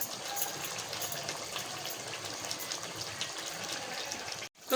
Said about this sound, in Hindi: अब मैं इसमें डालूंगी पानी।